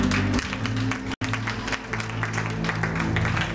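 Church congregation at a pastor's sermon applauding Jesus: sustained, lively clapping from many hands with a brief dropout near the start, mingled with some voices and a low musical drone underneath.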